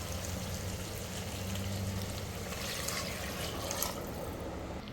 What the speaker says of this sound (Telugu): ఇప్పుడు వాటర్ వేసేద్దాం